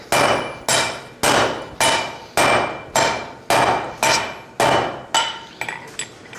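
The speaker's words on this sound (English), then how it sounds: "we're going to hammer it just a little more, Rory." Blacksmith hammering hot metal at a smithing conference, a loud, even series of about eleven sharp ringing strikes, closely spaced and alone, with the last few quicker and lighter.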